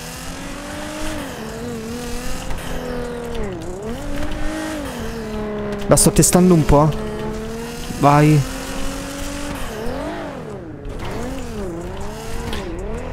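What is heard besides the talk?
car driving in GTA 5 video game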